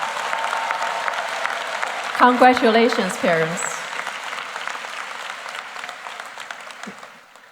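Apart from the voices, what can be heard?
graduation audience applauding the parents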